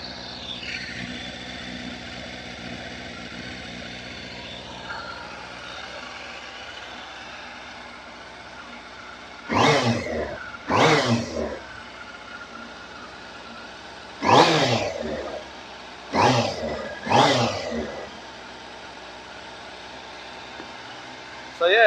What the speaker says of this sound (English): It's a lovely sounding bike, this one.